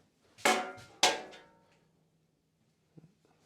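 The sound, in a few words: screwdriver used on Laguna bandsaw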